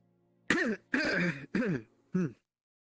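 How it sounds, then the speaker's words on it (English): Four sharp coughs and throat-clearing bursts come close up in quick succession, the last one shorter, with silence around them. "Excuse my cough."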